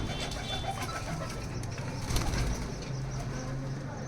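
Soft, repeated cooing of several Arabian pigeons close by, with a brief flutter of wings midway and a faint background hum.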